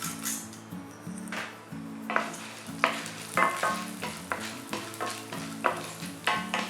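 Mustard seeds, urad dal and chana dal fry in hot oil with a steady sizzle, while a spoon stirs and scrapes the pan in repeated clinks at close range.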